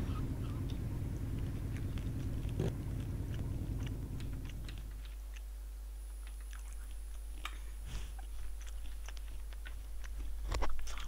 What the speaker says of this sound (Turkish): şey yiyorum fındık.